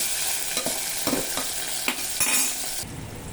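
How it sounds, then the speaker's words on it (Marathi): Tomato sautéing in hot reddened oil after garlic tempering for a masoor dal amti, a steady close sizzle broken by several scraping stirs of the pan throughout. "टोमॅटो 1 मिनिटभर चांगलं परतून घ्यायचा छान"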